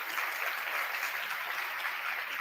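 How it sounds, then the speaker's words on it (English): Steady audience applause fills a conference session hall in Portugal, a dense, even wash of clapping holding at the same level from start to finish with no voices on top. "Let's give a round of applause"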